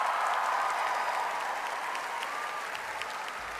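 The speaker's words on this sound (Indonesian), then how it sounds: "saya ingin kita kasih tepuk tangan yang meriah untuk Mas Pri GS" A live audience gives steady, even applause for an honoured cultural figure at a gathering, a dense wash of clapping held at one level throughout without pause.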